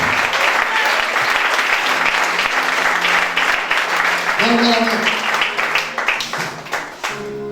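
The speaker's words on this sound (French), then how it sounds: "Acclamons très fort le Seigneur pour sa vie" A church congregation applauds loudly and continuously, a dense wash of clapping that carries on throughout, with tones from music or a voice rising briefly in the middle.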